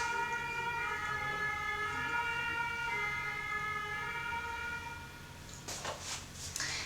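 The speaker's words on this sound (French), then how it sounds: "merci les pompiers qui passent" A fire engine siren wails steadily outside as it passes, loud and continuous with sustained harmonic tones, then fading near the end while brief clatters and thuds come from close by.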